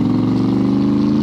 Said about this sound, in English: Give it a little throttle as she pulls the back end out.